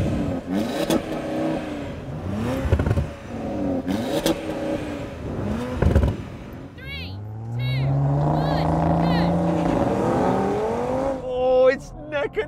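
Audi RS4 and RS3 cars accelerate hard side by side in a drag race, engines rising in pitch through several gear changes, loud and close, with a voice talking over them.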